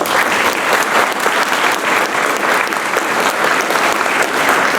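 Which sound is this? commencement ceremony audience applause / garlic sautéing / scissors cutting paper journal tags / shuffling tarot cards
commencement ceremony audience applause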